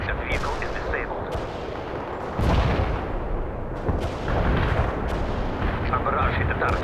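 Artillery shells slam down in a heavy barrage in the war game World in Conflict, with repeated loud booming blasts over a constant roar of battle noise. The impacts keep coming at irregular intervals.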